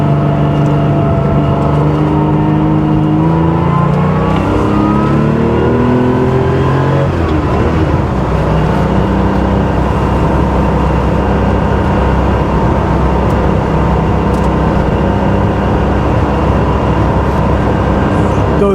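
A 1979 Porsche 911 SC Targa with a GT3-style exhaust drives along, its engine droning loud and close, rising in pitch under acceleration, then settling into a sustained steady roar.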